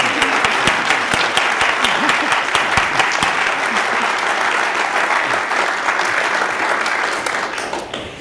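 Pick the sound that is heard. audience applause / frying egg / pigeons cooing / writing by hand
audience applause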